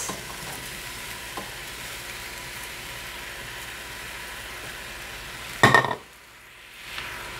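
Sliced onion sizzles steadily in a pan for several seconds, then a burst of clatter and splash as zucchini is tipped in, after which the frying quietens to a soft hiss, with no talking.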